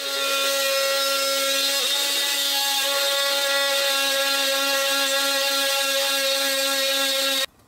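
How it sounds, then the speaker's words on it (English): An oscillating multi-tool cuts out the wick extension inside an oil lamp being converted to electric, a steady, loud high-pitched whine with a constant buzzing tone running unbroken for about seven seconds before stopping abruptly. "So I'm going to get the multi-tool in there, cut it out, and get rid of it"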